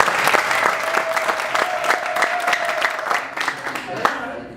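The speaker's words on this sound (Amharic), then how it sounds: "ለዚህም ለነሱ ሞቅ ያለ ጭብጨባ።" A graduation ceremony crowd gives warm, sustained applause, dense clapping from many hands filling the hall at close range, with a faint voice briefly audible underneath.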